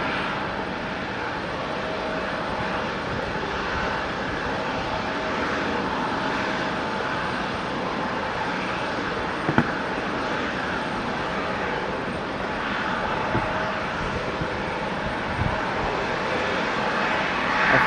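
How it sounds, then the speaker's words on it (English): An American Airlines airliner arriving from Charlotte at Raleigh-Durham International Airport makes a steady, broad jet roar that holds for the whole stretch. It stays even in loudness, with no voices over it. "looks like our next arrival is going to be American Airlines 1645 coming in from Charlotte"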